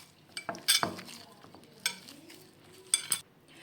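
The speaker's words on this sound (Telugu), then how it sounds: "కొంచెం మనం చేతికి నెయ్యి రాసుకొని కలుపుకోవాలి" Puffed rice sweet mixture mixed by hand with ghee in a home kitchen, giving soft rustling stirs with a few sharp clinks and scrapes of utensils, close and fairly quiet, with no talking.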